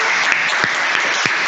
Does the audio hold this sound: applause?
yes